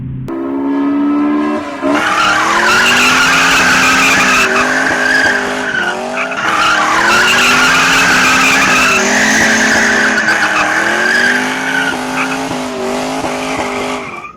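A car accelerates hard with loud, sustained tire squeal and a rising, revving engine. The sound is close and continuous, with pitch sweeps as the car slides and speeds up.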